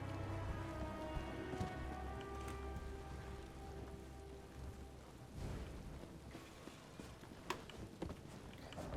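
Steady rain patters in Elder Scrolls Online, a soft continuous hiss of drops with occasional faint clicks and distant rumbles, quiet and with no talking.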